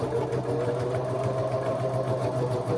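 Sewing machine back stitching a short stretch on jeans being altered, a close, steady whirring drone with fast rhythmic needle clatter throughout, no talking.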